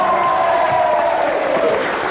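A French TV studio audience on TF1's La Roue de la Fortune in 1987 claps and cheers steadily, a dense wash of applause with a sustained musical tone underneath.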